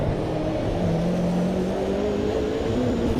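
A Mercedes race car in the sim-racing game Automobilista 2 runs flat out near the red line, giving a loud, continuous engine drone with a slowly climbing pitch and no talking.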